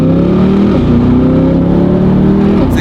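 Loud, close revving from a Corvette C8 with a titanium cat-back exhaust, the engine tone climbing and holding in a raspy, sustained roar before easing slightly, with no voices.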